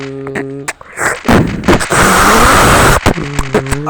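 Gunfire in the Special Forces Group 2 shooter game on the New Big Desert map: a dense, loud burst of rapid shots lasting a couple of seconds, bracketed by sharp single cracks and game music.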